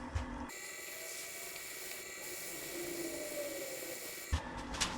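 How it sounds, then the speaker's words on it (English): A resin pen blank being wet sanded at 400 and 600 grit on a running lathe, heard as a steady whirring hum with an even abrasive hiss over it, close and continuous for several seconds. "Now we're going to start wet sanding,"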